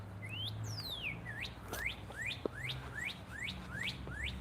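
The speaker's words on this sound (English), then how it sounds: "Hear the birds?" Birds chirp outdoors in a downtown area by a railroad track, a repeated series of clear rising whistled calls at an even pace, moderately near over faint low city hum and a single soft knock.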